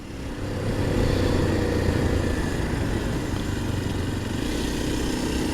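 A Kawasaki KLX230 dual-sport motorcycle rides through town on a sunny day, its single-cylinder engine a steady, close, unbroken drone that swells in the first second and then holds at an even level to the end.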